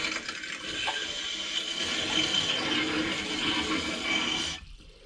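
Water runs steadily from the hot side of a bathroom sink faucet in a 2022 Keystone Montana RV, a continuous close splashing hiss that cuts off abruptly near the end.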